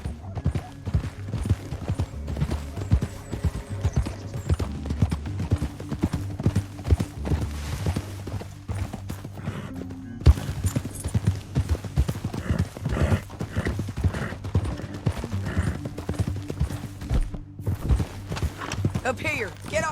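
Horse hooves clip-clopping steadily in Red Dead Redemption 2, a continuous rhythmic gait under a low drone, with occasional whinnies and brief game voices.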